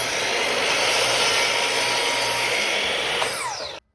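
A power saw whines steadily at full speed, trimming barn door boards square, a loud close continuous roar that winds down and stops abruptly near the end.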